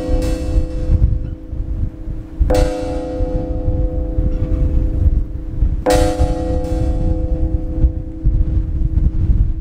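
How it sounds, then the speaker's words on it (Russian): A large bell rings in Mongolia, struck three times at slow, uneven intervals, each deep resonant clang hanging and decaying over a steady rumble of wind. "Где слышно вот этот звук колокола, там будет очень... мирно, и все будет спокойно"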